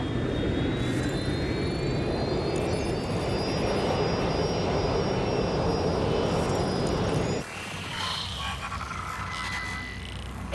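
A jet airplane roars steadily and loudly overhead in Watch Dogs Legion, a broad sustained engine rush with a high whine that drops away abruptly near the end, leaving a quieter hum.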